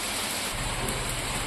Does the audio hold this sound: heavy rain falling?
yes